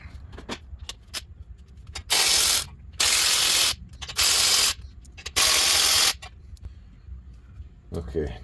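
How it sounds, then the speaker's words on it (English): Ratchet fitted with a 14mm deep socket and extension working on the exhaust of a 1997 Toyota Corolla, with four loud, steady clicking runs in a row, close up, between scattered metallic taps. "So I'm switching over to a 14mm deep socket and a little extension."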